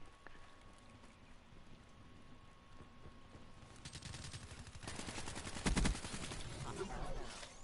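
Black Ops 3 gunfire comes as rapid bursts of automatic shots, quiet at first and then louder and denser toward the end, over a low background rumble.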